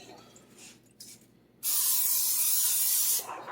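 A few faint rustles, then one sustained hiss from an aerosol butter cooking spray, loud and close for about a second and a half before stopping.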